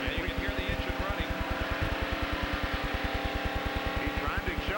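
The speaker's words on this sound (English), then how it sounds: "And you can hear the engine running." A NASCAR race car engine idles at about 4,000 RPM in fourth gear in the 1992 Hooters 500, a steady rhythmic pulsing rumble running throughout under someone talking.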